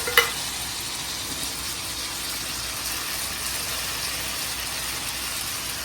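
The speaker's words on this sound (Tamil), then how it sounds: "தேங்காய் சேர்த்து வச்சு இப்போ மசாலா போட்டு கிண்டிடலாம்" Coconut and masala stirred in a hot pan while cooking fish kuzhambu, giving a steady, close sizzle and frying hiss that holds evenly throughout, with a brief clatter at the start and no voices.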